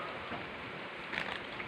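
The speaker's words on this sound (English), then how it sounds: "it's raining" Rain falls outside in a steady, even hiss, with a slight brighter surge near the end and no voices.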